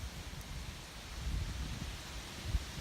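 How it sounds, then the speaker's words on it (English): Wind blows steadily outdoors, a broad rushing roar with low buffeting gusts against the microphone, no voices present. "Obviously this wind today is not helping this at all"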